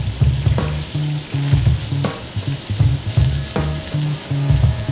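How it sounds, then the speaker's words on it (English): Bacon sizzles loudly in a hot pan after the fat has been poured off, with a steady crackling hiss and repeated scraping stir strokes at close range. "Let's add that bacon now."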